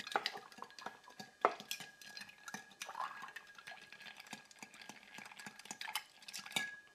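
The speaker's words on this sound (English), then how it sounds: "Add a little ice. Get our stir on." Ice clinks and rattles against glass as a spoon stirs a vodka cocktail, with quick irregular taps and swirls, quiet and close, with no talk.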